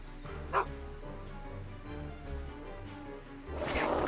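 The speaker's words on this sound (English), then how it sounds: "Go away, dog." A dog barks and yips repeatedly in a Back to the Future adventure game, a string of close, moderately loud bow-wows with whimpering tones over a low steady background.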